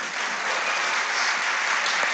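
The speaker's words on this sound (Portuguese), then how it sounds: "aplausos para Eduardo Suplicy" Audience applause at a critical-thought forum in Fortaleza, Brazil: steady, dense clapping from a large crowd, sustained and fairly loud throughout with no voices over it.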